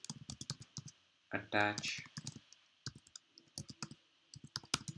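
A computer keyboard clatters as code is typed, with quick irregular key clicks close up. Someone talks briefly partway through, and the typing continues before and after his words.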